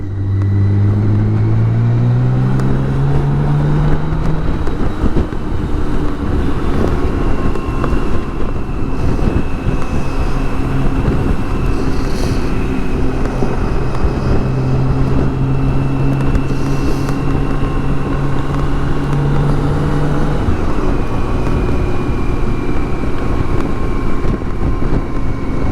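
BMW K1600 GTL motorcycle engine droning steadily while riding, with pitch falling and shifting as it slows to pull over, accompanied by constant wind rush across the microphone.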